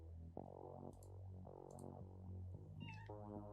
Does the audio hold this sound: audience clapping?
no